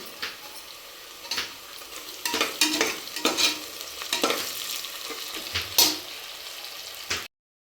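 Onions and green chillies fry in a pan, with bursts of sizzling and stirring scrapes coming in irregular clusters, moderately close and without any talking.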